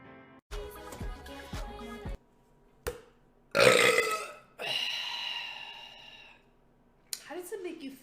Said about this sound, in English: a lovely lady just belches in your ear like that